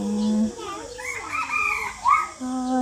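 Rooster crowing and chickens clucking at close range, several loud drawn-out calls with brief pauses between them and no talk over them.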